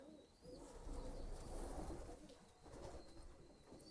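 A young racing pigeon coos softly in a loft, a few low, rolling coos over quiet background hiss.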